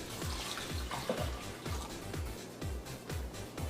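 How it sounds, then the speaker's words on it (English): Water runs or pours into a cooking pot of washed beans, a steady close splashing flow with faint low knocks and no talking. "Then we add the water."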